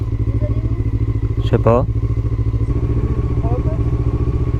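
A KTM Duke 125 motorcycle runs with a steady, pulsing mid-pitched engine throb close by, while someone speaks briefly partway through.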